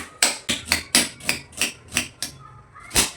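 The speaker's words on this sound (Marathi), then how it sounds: "इथे एक मी मोठ्या साईजचा कांदा घेतला आहे आणि तो पण कट करून घेते।" A knife chopping through a large onion on a cutting board in a home kitchen, giving about eight sharp, evenly spaced chops close by, then a short pause and one final cut.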